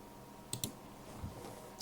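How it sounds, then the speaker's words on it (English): A Machenike M7 PRO gaming mouse gives a few crisp, quiet button clicks, a quick pair followed by two more spaced out, close up against a faint background with no talking. "I can click here and switch it around."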